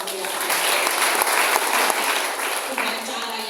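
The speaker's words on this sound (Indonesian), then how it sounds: "Tepuk tangan buat Allah." A church congregation applauds loudly during a sermon, producing a dense, continuous wash of clapping with voices blended in, sustained throughout before easing slightly at the end.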